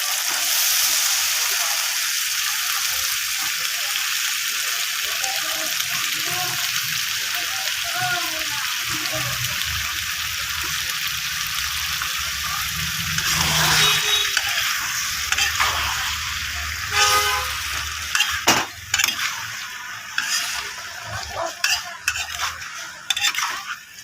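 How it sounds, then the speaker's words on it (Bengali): Potato, eggplant and bean pieces tipped into frying spice paste and stirred, a loud sizzle with scraping spatula and clattering pan strokes growing more irregular toward the end, with a voice talking at times. "এখন আমি সবজিগুলো ঢেলে দেবো।"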